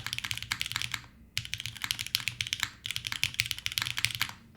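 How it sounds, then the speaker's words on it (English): Rapid clacky typing on a mechanical keyboard with H1 switches on an aluminum plate, close up and continuous with a brief pause, no voices. "This is the Cat keyboard. It is H1s on an aluminum plate."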